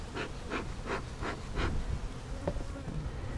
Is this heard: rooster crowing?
no